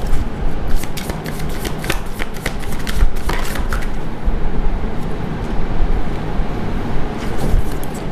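Tarot cards are shuffled and drawn in a steady, close-up riffling and sliding rush that continues through the whole stretch, with brief crisp snaps as cards fall, and no talking.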